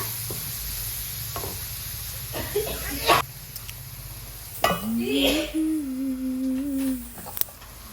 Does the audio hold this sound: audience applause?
no